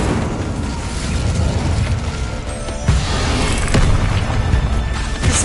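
Incendio fire spell cast in Hogwarts Legacy, a dense roaring blast of fiery noise that fills the whole stretch, with sharper bursts and cracks breaking through near the middle and end.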